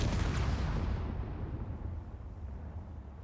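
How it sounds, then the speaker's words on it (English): A small grid missile warhead detonates against heavy armor in Space Engineers, a deep rumbling boom that decays slowly into a low roar over a few seconds. "We see a minimal explosion."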